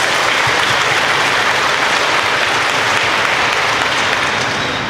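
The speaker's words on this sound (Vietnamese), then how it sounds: "Cộng đoàn chúng con một lần nữa vỗ tràng pháo tay thật đại để" A church congregation at a Sunday Mass in Kẻ Sặt parish applauds to welcome a priest, with dense, steady clapping that fills the space at an even loudness and carries no speech.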